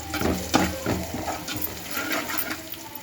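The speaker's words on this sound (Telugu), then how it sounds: "కొద్దిగా ఆయిల్ వేసుకొని ఎర్రగడ్డ పచ్చికరివేపాకు ఎర్రగా వచ్చేంత వరకు వేసుకొని" Onions and curry leaves fry in hot oil, a loud watery sizzle with splashy bursts of stirring near the pan throughout, no voices.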